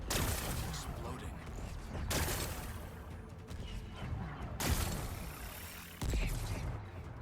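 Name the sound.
explosions blasting away rocks in Horizon Forbidden West video game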